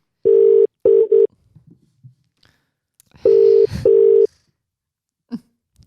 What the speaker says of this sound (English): So let's give him a call right now.